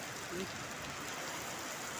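Heavy rain falls in Dubai as a steady, dense broadband hiss that fills the whole moment evenly, with no distinct drops or other sounds standing out.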